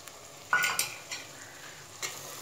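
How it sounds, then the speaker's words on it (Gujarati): Chopped tomatoes tipped into a pan of sautéed onions and stirred, giving a few sharp scraping stirs over a soft, low sizzle, close by with no talking. "ડુંગળી સંતળાઈ જાય એટલે એમાં જે કટિંગ કરેલા ટામેટા હતા એ એડ કરીશું."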